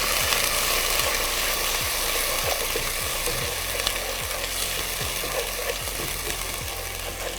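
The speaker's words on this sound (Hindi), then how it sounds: "जिंजर गार्लिक को हम सौते करेंगे" Ginger garlic paste sautés in a pan on low heat, giving a dense, continuous sizzle with regular stirring scrapes throughout.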